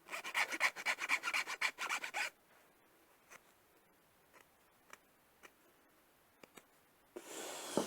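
Hand filing of nylon plastic stock for turning on a metal lathe: about two seconds of rapid, close rasping strokes, then near silence with a few faint ticks and a final burst of rubbing.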